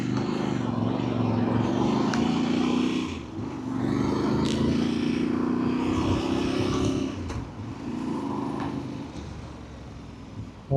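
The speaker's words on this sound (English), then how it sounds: "Lots of engine braking" A Voge DS800X Rally motorcycle ridden under heavy engine braking, with a steady loud engine drone that dips briefly, then holds again, plus intermittent wind rush and a few faint clicks.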